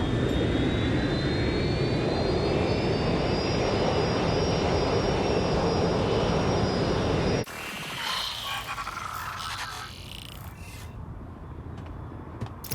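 A rerouted airliner in Watch Dogs Legion flies with a loud, sustained jet engine roar and a rising whine. The roar cuts off abruptly partway through and gives way to quieter, shifting mechanical and ambient game sounds, with no speech.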